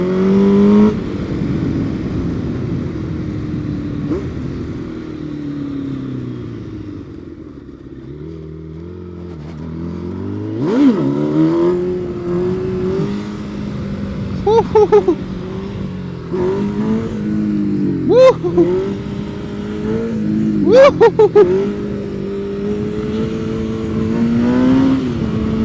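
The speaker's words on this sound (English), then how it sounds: "I'm on a motorcycle." A sportbike engine drones and rises and falls through gears, with sharp revving bursts and throttle blips standing out over steady road rumble.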